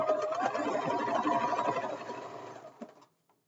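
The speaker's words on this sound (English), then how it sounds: "Now I'm going to sew this. Remember to backstitch because this time it's important to have a strong sewing so it doesn't fray" Sewing machine stitching and backstitching a fabric scrunchie seam, a steady buzzing run for about two and a half seconds that slows, gives a short knock, then stops into silence.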